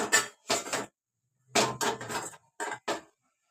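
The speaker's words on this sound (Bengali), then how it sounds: "ঢাকা দিয়ে দিলাম। মিডিয়াম আছে 5 মিনিটের মতো ঢাকা দিয়ে রেখে দিলাম।" Metal clatters and knocks as a lid is set on a cooking pot of shrimp and taro stolons, several short bursts in two clusters separated by silence, close and fairly loud.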